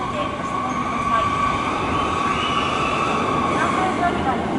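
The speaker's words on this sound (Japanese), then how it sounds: "列車が参ります" A Marine Liner rapid train rumbles loudly and steadily alongside a platform, with a continuous mechanical roar and faint tonal whine under a Japanese station announcement.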